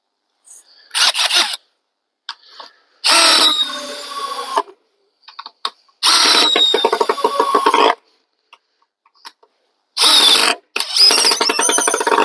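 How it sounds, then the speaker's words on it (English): DeWalt DCF601 cordless screwdriver on max setting with a fully charged 3 Ah battery driving fasteners into wood, several separate whirring bursts of a second or two each, separated by silence, close and loud. "You can really control the speed of your fasteners going in with them"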